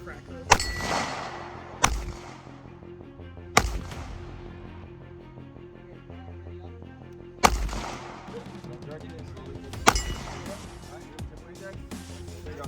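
Glock pistol gunshots at a target on a shooting range, five sharp loud reports spaced irregularly over several seconds, each with a ringing metallic decay.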